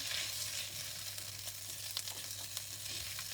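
Flat kway teow rice noodles coated in sambal stir-fry in a hot pan: a quiet continuous sizzle broken by a few sharp clicks and scrapes of tossing and mixing.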